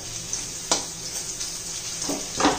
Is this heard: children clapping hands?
no